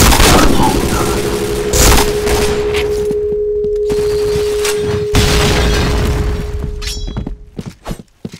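Loud, chaotic video-game combat with heavy booms and crashes, rapid gunfire and a shattering impact, a sustained roar that fades into scattered thuds near the end.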